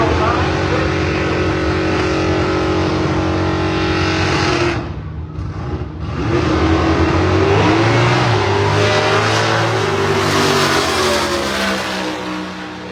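1964 Chevy II drag car with a 352 cubic inch Chevrolet engine at a drag racing event, loud engine drone that dips briefly in the middle before rising again under revving, with a commentator speaking over it.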